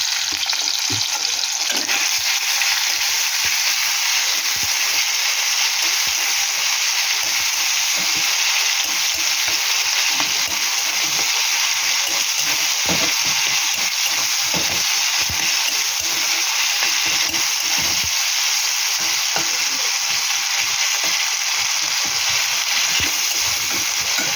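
Ginger, green chili and tomato sizzle loudly and steadily in hot oil for a hing-flavoured cauliflower and potato dish, with frequent stirring scrapes and taps throughout and no speech.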